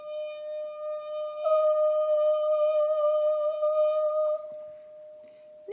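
A wet finger rubbing around the rim of a glass goblet draws out a pure, sustained singing tone that swells slightly louder partway through and rings steadily for several seconds before fading.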